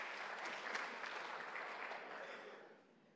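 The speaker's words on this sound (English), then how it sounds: "Round of applause." Audience applause after a talk on course highlights, dense clapping from a crowd indoors that stays full and even, then begins to fade toward the end.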